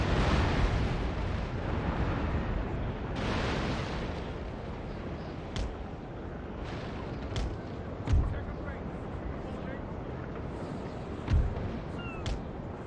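Naval cannon fire striking ships in the Napoleon: Total War game, a dense continuous rumble of battle noise with several distinct booming impacts rising above it, and voices mixed in.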